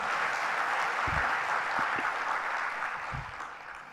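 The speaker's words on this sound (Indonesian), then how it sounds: "Tepuk tangan." An audience at a BJB business review event claps in a broad, even wash of applause with a few low thumps, holding steady and then tapering slightly toward the end.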